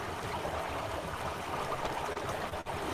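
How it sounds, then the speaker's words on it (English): Water running through pipes in the Myst video game, a steady broadband rush and trickle that holds constant for the whole stretch, with no voices over it. "Pipe water flowing"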